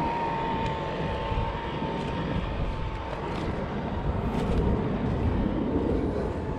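A small RC fishing boat's engine runs in a steady, continuous buzzing drone, close and fairly loud throughout, with a slight swell toward the end.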